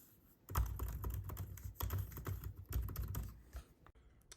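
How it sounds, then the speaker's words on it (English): Rapid, clattering keystrokes on a 2021 MacBook Pro laptop keyboard, close and continuous with a few brief pauses, no voices. "it's got a good sound to it too when you're typing"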